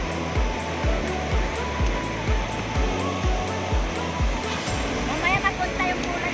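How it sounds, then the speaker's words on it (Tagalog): Ocean surf at Patar Beach in Pangasinan, Philippines, waves rolling in with a steady rushing wash and a rhythmic low pulsing, loud and close, with a voice faintly underneath. "Yan, ito yung dagat dito guys. Ganito yung alon guys"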